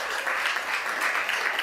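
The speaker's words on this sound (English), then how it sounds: "a round of applause for them" An audience at a Tobago Day debate event applauds, producing a dense, steady wash of clapping that stays fairly loud throughout the short stretch.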